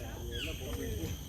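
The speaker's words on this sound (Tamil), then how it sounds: "பின்னாடி நல்லா குருவி சத்தம் கேட்குது." Small birds, sparrows, chirp and call faintly in the background beneath a quiet, steady outdoor ambience.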